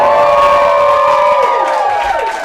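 A large, excited crowd cheers and shouts at an internal corporate event in Singapore, loud and sustained, with whoops and a few voices rising above the roar.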